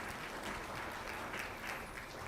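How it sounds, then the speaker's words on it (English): Steady, dense applause from a conference audience welcoming guests at a Seoul financial forum, sustained and even throughout with no pause. "please welcome them, each of them, with a big round of applause"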